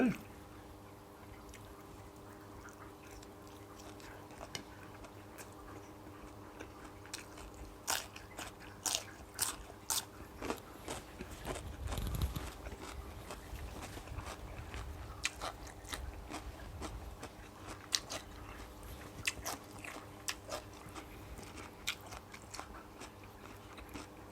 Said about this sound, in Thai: ปลาเข็ง กินกับเจียวหน่อไม้ส้มหน่อย